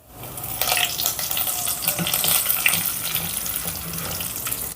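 Urad dal, mustard seeds, cumin, dried red chilli pieces and curry leaves tempering in hot oil give a steady, close crackling sizzle that runs continuously with no talking.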